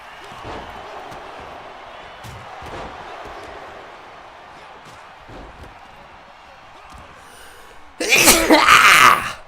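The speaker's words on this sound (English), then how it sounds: "Goodness, what a sneeze." After several seconds of background chatter and thumps, a single loud, explosive sneeze bursts out close by at the end.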